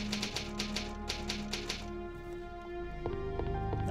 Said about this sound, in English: An old typewriter.